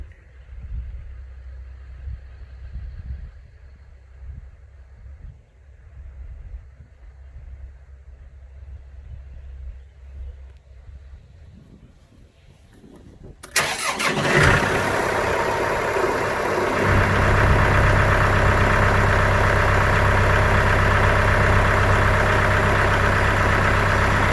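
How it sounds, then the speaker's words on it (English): A truck engine rumbles in from a distance, growing louder until it settles into a steady, loud idle close by, with no voices over it. "I think I hear a truck coming."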